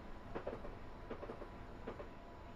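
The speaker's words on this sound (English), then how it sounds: "We are going through Wandsworth Common Station at this time." Train-simulator passenger train running through Wandsworth Common station on the London to Brighton line, a steady low rolling rumble with three evenly spaced bursts of clickety-clack wheel beats over rail joints, no voices.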